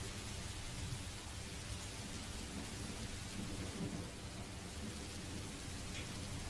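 Steady rain and rolling thunder play continuously as a dense, even wash of sound with low rumbling underneath, no voices present.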